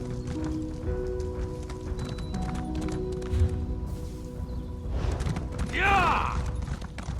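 A horse ridden in The Elder Scrolls Online clip-clops steadily beneath game ambience, its hoofbeats close and rhythmic, and a brief whinny rises near the end.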